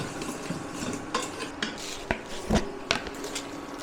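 Clattering and scraping of a spoon stirring onions frying in mustard oil in a pot for mutton biryani, sharp metallic knocks at irregular intervals over a low background.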